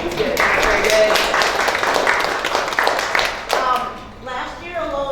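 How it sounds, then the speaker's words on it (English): Audience applause for volunteers at a Foster Grandparents gathering, a steady wash of clapping that fills most of the moment and then thins out as a voice begins speaking. "So yeah, that deserves applause."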